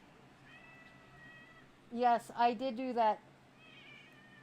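A pet cat meows in a room, letting out a loud, drawn-out, wavering meow close to the listener, with quiet talking before and after it.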